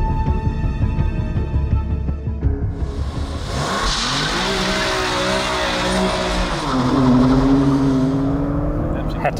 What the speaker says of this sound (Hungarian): Bele ragadt, tehát forog alatt a kerék csak. Nem tud elrajtolni